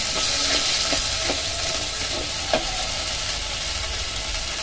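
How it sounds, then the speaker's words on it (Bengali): Catla fish pieces fry in a hot spice paste with a steady, close sizzle and hiss. A few soft stirring knocks come through near the middle. "মশলাটা একটু সামান্য ভাজা হয়ে এলে এর মধ্যে আমরা মাছগুলো অ্যাড করলাম"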